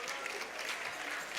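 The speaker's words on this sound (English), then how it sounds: "A round of applause to them." Audience clapping at a university gas-industry quiz competition grand finale, a steady dense round of applause from a crowd, moderately loud and continuous without speech.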